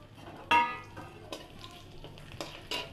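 Whole spices (bay leaf, dried red chilli, cardamom, cloves, cinnamon) hit hot oil for a chana paneer tempering, with a few sharp metallic clinks and scrapes over a low sizzle, no voices.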